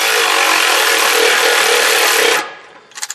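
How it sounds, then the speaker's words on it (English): A powered ratchet spins the Y pipe nuts on a 2011 Ford Edge exhaust, a loud close buzzing whir running steadily for over two seconds before cutting off, followed by a few faint clicks. "we're using a powered ratchet"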